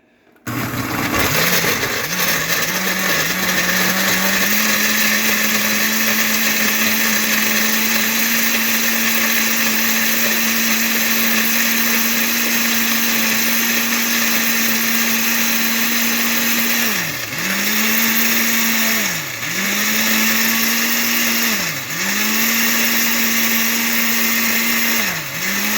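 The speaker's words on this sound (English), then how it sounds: "I need to crush all the dates" A blender crushes dates for low-carb keto bread, running as a loud, steady whir throughout with three brief dips where the motor bogs down and recovers near the end.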